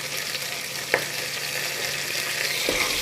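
Green chillies and curry leaves sizzle in hot tempering oil for a sambar of field beans, potato and brinjal, a steady close crackling hiss with a sharp pop near the start and a stir or clink near the end.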